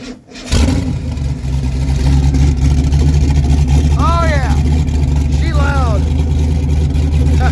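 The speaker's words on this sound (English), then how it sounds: "We have an open H pipe. We're gonna fire it up and see what it sounds like." A Ford Mustang with an open H-pipe exhaust and mufflers removed roars into life and holds a loud, deep, rumbling idle with a couple of rising revs, heard up close.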